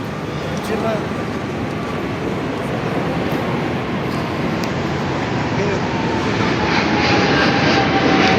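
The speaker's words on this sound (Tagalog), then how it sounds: "Ay, aeroplano po yun." An airplane flies overhead above a canal-side walkway, its engine making a loud, steady roar that builds slightly toward the end, with people talking underneath.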